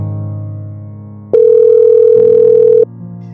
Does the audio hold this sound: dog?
no